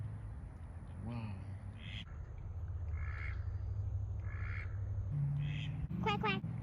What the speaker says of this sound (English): Quack, quack. He's really loud.